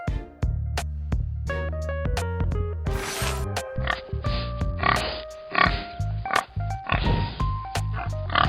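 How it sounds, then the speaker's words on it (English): A pig grunts and oinks repeatedly in short, irregular bursts, close and fairly loud, with other faint farm noises mixed in. "Pig."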